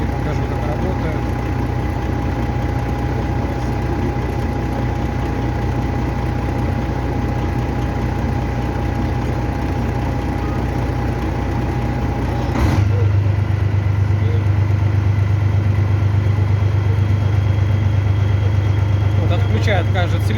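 A Freightliner truck's Detroit diesel engine idles during an injector test, a steady, loud, close low rumble that deepens abruptly partway through as the tone shifts, with no talk over it.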